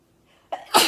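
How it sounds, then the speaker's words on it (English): A single close, sharp sneeze burst, preceded by a quick intake of breath and followed by a brief noisy exhale. "Hold on, I have to sneeze."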